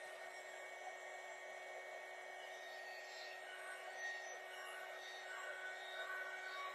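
A hair dryer blows steadily on a freshly painted craft kit piece, a constant close whooshing roar with a faint high whine, holding level throughout.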